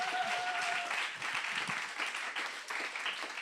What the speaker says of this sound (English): Round of applause for Jack Rowbotham there.